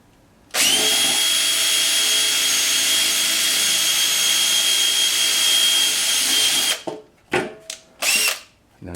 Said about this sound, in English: You'll break off a drill bit